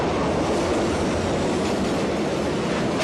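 A New York City subway train rumbles past close by, a dense continuous roar of wheels and cars with faint rhythmic clatter throughout, loud and unbroken with no voices.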